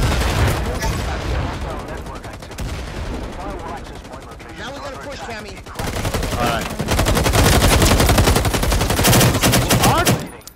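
Sustained gunfire from the online shooter Firewall Zero Hour, with rapid automatic bursts rattling close and loud, thinning briefly mid-stretch before a heavier barrage swells near the end, while players talk over it.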